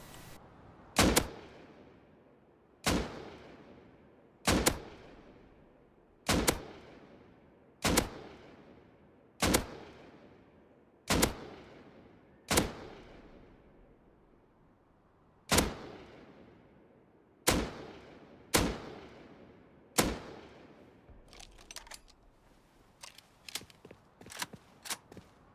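Single assault rifle shots in the game Rust, about a dozen loud evenly spaced cracks with ringing decay, then a quick scatter of softer clicks near the end.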